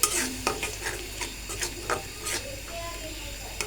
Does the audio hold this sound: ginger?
yes